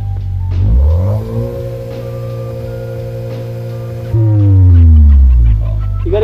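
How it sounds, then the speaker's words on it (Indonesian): A 2024 Jeep Wrangler JL Rubicon engine and exhaust revving while standing still, climbing to around 3000–3500 rpm and then settling, loud, close and continuous with a deep throaty rumble and no speech. "aku akan coba injek pedal gasnya biar kalian bisa dengar kira-kira pada saat tiba di jalanan itu kayak gimana"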